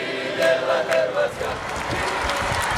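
A crowd at a papal audience acclaims the pope, a sustained, moderately distant roar of many cheering voices that swells and ebbs.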